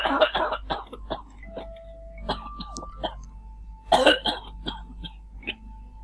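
Several harsh, repeated coughs come in short bursts, near and fairly loud, with a brief pause and then another fit of coughing; a faint ding rings between them.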